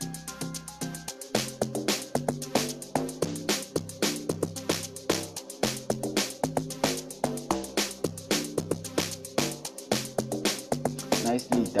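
Layered amapiano log drums, the third one stacked with others in a steady beat with dense percussion, repeating punchy deep bass hits in a loud, continuous rhythmic loop.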